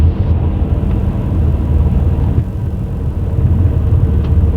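A Piper Comanche 250 light airplane rolls along the runway just after touchdown, giving a steady, loud low rumble of engine and tires that holds evenly throughout.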